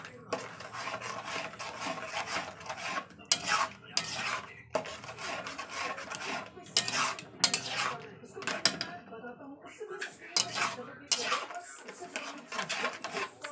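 A utensil scrapes and stirs against a pot while hot tomato sauce is mixed, making repeated rough rasping strokes and clinks at close range, with someone talking over much of it.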